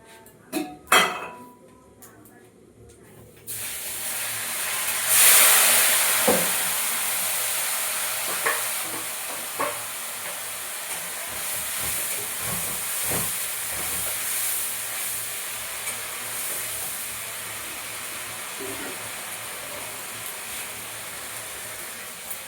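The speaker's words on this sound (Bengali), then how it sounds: "দেখো তেলটা ছেড়ে দিয়েছে, মশলা কষানো হয়ে গেছে আমার" Spice paste with chilli powder, salt and turmeric frying in oil, a steady hissing sizzle with scattered stirring scrapes and clinks; a voice is heard briefly at the start.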